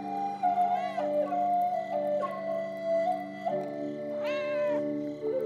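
A cat in the video game Pentiment meows as it is petted, giving several distinct, rising-and-falling meows spaced a second or so apart over a steady tonal game background.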